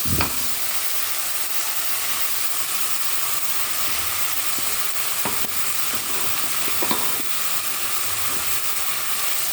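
Ginger, garlic, green chilli and tomato paste added to hot oil and browned onions, giving a loud, steady hissing sizzle with occasional stirring knocks, close up with no voices.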